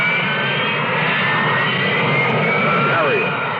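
Harrier jet engine, a loud, continuous roar that holds steady and close, with a faint rising whine near the end.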